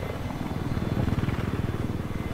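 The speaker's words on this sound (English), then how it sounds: "Attack chopper behind us." Attack helicopter in the video game Battlefield 4, its rotor chopping in a steady, rapid low thump that sounds close and fairly loud, with no other clear sounds over it.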